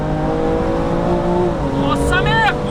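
A 720 hp stage 3+ BMW M2 Competition accelerates hard at full boost, its engine note climbing steadily in pitch with shifts, loud and close from inside the cabin, with brief voices over it.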